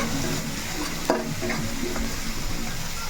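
Onions fry in a pan with a steady close sizzle, broken by a few sharp stirring scrapes and clicks, and no voices present.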